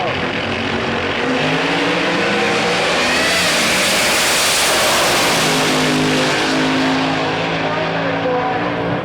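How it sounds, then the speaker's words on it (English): A loud, roaring supercharged Pro Mod drag racing engine blasts continuously at full power, its pitch rising and then falling as the car tears past at Santa Pod in 2005. "Danny, of course, came into Pro Mod, elected to run the blown engine straight away."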